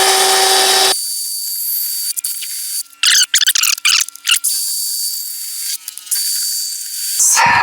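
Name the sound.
drilling holes through belt grinder clamping block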